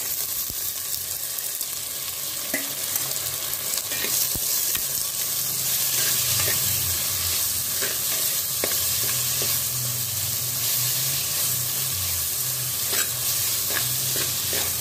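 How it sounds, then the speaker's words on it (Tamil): Onions and tomatoes fry and sizzle in a pan for a spicy Tamil crab curry, a steady close hiss with occasional stirring scrapes running unbroken throughout. "வெங்காயம் வதங்கிச்சு. இப்போ தக்காளியை போட்டுக்கோம்."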